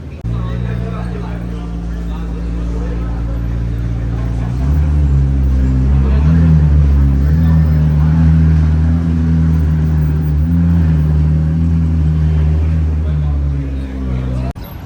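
A yellow Porsche Carrera GT engine rumbles low and steady, then deepens as it revs up and holds, loud and close throughout, at an exotic car show.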